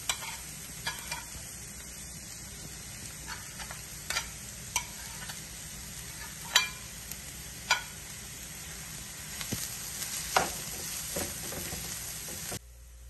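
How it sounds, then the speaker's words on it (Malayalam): Chopped ingredients for tuna cutlets sautéing in hot oil, a steady low sizzle punctuated by scattered clicks and taps of a stirring utensil against the pan, with no voice. "ഇനിയും ഈ സാധനങ്ങളെല്ലാം കൂടി ഇട്ട് ഒന്ന് നല്ലതുപോലെ വഴറ്റിയെടുക്കാം."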